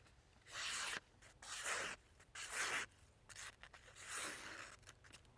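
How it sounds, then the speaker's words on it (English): A sharp Ka-Bar ESEE D'Eskabar fixed-blade neck knife tears through damp paper in about five separate rasping strokes, each a close, papery rip separated by short quiet gaps. "I'm not putting any pressure into it, just tearing."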